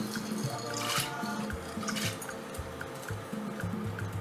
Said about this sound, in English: So I'm just going to put my beans, my washed beans, in the cold water.